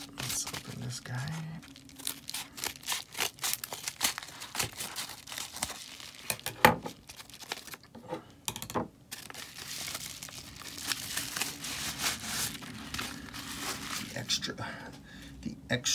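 Mail package with protective wrapping being torn open, busy crinkling, tearing and crunching of plastic and paper in quick bursts throughout, close up, with a person speaking now and then between the rustles.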